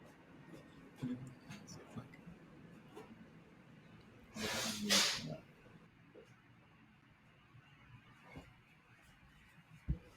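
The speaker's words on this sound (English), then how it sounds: "I just have to blow my nose." A person blows their nose once. The honking burst comes mid-clip in a quiet room and stands out loudly against low background sound, with soft voices and small noises around it.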